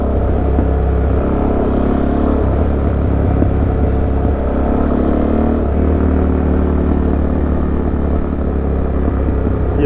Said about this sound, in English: The exhaust sounds so nice.